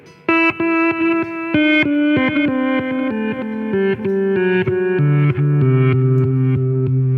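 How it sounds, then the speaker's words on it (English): Electric guitar through a Danelectro Back Talk reverse delay pedal, notes swelling in backwards and sustaining, each note blooming and overlapping into a dense, echoing wash with no clean signal. "It sounds like it's just your reverse delay, and you don't have any clean signal."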